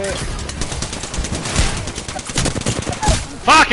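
Dense, sustained automatic gunfire from a gun in the video game Apex rattles throughout, close and loud, with a short voiced exclamation near the end.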